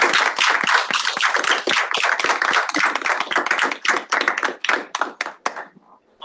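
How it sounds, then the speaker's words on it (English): Close, lively clapping from a small student audience at a student government meeting for three candidates, dense and energetic for about five seconds before thinning to a few last claps and stopping. "We can give a huge round of applause for all three of you."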